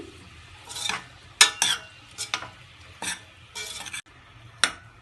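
Onions sautéing in a pan for a raw mango and prawn curry, with bursts of spoon stirring and scraping alongside soft sizzling and a few clinks of metal against the pan.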